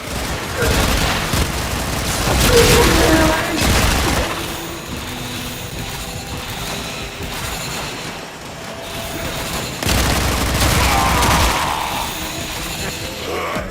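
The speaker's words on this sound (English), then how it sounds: "Oh look, shooting things." Rapid bursts of gunfire in the Warframe video game, loud and dense in two heavy volleys with a rumbling, train-like mix of booms between them and no one talking.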